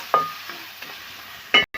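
Rice frying with coriander, mint and chili powder is stirred in the pan, with a couple of sharp scraping strokes and a faint sizzle underneath, close and fairly loud.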